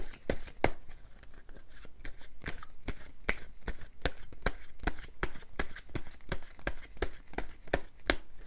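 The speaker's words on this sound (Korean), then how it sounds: "제가 추가 카드 뽑은 다음에" Tarot cards being shuffled and drawn, a dense run of crisp card riffles and flicks that repeats rapidly and steadily throughout, close and fairly loud, with no talking.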